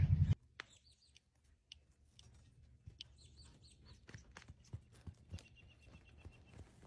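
Horses move about a farm with soft, irregular clip-clop hoof thuds, faint and somewhat distant, while chickens cluck and birds chirp in the quiet background.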